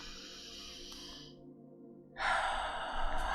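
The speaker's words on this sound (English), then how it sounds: "So just taking a deep breath in." A slow deep breath drawn in during a calming tapping exercise for grief: soft airy breathing, a brief near-silent pause, then a stronger, louder inhale, close to the microphone with no speech.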